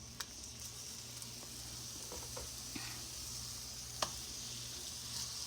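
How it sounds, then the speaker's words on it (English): Salisbury steak patties sear in a cast iron pot with a steady, quiet sizzle, broken by a few soft pops and light clicks, with no voices. "we got us a sear together going on. That's what I want to hear."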